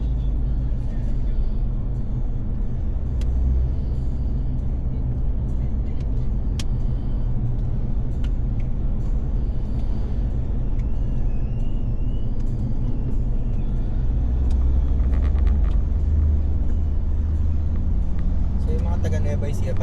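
Steady low rumble of traffic on a road near Bawang, La Union, cars and heavier vehicles passing continuously around a vehicle stuck in congestion, with an occasional brief hiss like an air brake.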